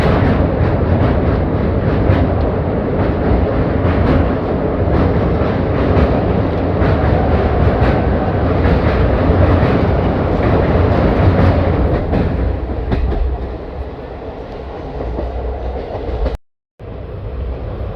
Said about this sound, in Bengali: ট্রেন এখন নাগাবলি নদী পার করছে